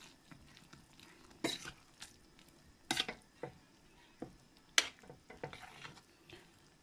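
A spoon stirs sardines and malunggay leaves in a cooking pot, giving soft irregular scrapes and sharper metallic clinks against the pot at a quiet, close distance, with no talking.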